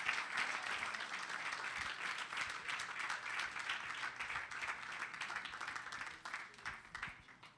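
Sustained audience applause at a women in sport summit, steady dense clapping from a large crowd that tapers off at the end, with no talking over it.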